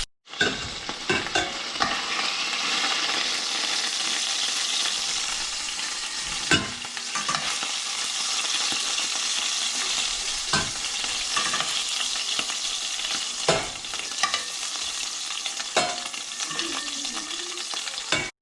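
Beef chunks browning in hot oil in a pan for beef bourguignon, giving a steady, dense sizzle with occasional scrapes and clacks of stirring throughout.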